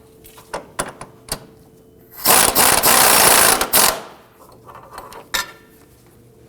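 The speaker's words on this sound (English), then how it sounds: "So let's go ahead and tighten and torque these bolts." A ratchet tightens control arm bushing bolts on a 2008-2011 Ford Focus in a garage. It gives a loud, rapid ratcheting burst lasting about two seconds, with scattered metallic clicks and clinks of tools before and after.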